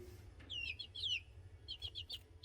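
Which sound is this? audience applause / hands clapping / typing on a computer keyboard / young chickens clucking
young chickens clucking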